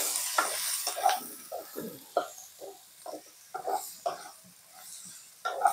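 Bitter gourd sizzling and crackling in a hot pan, with irregular spatters and stirring scrapes over a constant frying hiss, close and moderately loud.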